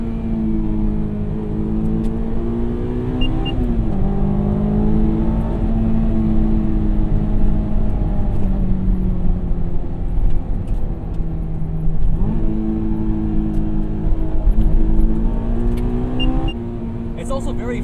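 A 2001 Honda S2000 AP1 drives on a road, its engine droning steadily from inside the cabin with gentle rises and dips in pitch as it shifts and accelerates, while someone talks over it.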